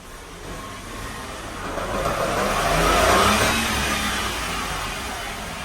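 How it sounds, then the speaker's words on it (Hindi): A car wheel spinning on a worn wheel bearing gives a steady mechanical whir and rumble that swells gradually to a peak midway and then eases slightly, close and continuous, with no voices. "ये बेरिंग में आवाज कर रहा है इसका"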